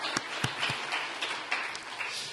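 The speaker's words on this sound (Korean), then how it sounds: "우리 마지막으로 하나님께 영광의 박수 올려드리겠습니다" Congregation at a Korean church new-year evening prayer service applauding, a dense, steady wash of many hands clapping with a few sharper claps standing out.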